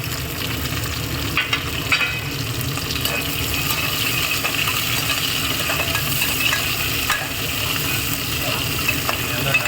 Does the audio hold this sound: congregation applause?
no